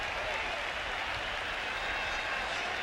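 A sellout stadium crowd roars steadily at a 1997 NFL game between Miami and Tampa Bay, a dense, continuous wash of cheering and clapping after a touchback that holds at an even level throughout.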